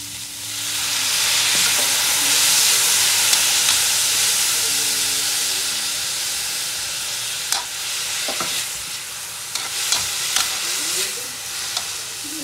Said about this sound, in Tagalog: Igisa na natin yung chicken ball, chicken liver, at yung chicken breast.